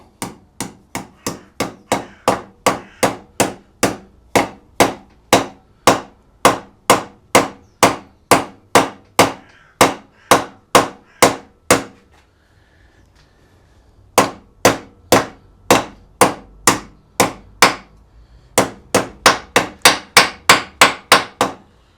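Steel drift made from scrap being hammered to drive a taper roller steering head bearing race into a Honda XR125 frame: a long run of sharp, evenly spaced metallic blows, a pause of about two seconds, then more strikes in quick succession.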